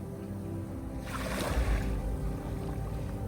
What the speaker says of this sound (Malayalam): അത്രയ്ക്കും ട്രാൻസ്പെറന്റ് ആയിട്ട് വന്ന് പതിക്കണ കരീബിയൻ സീനെ നമ്മൾ കാണാട്ടാ